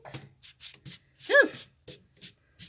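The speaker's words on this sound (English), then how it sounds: "erase your shavings" An eraser rubs on paper while a Baby Yoda drawing is finished, making a series of short, close scrubbing strokes in quick rhythm, with one brief voiced sound in the middle.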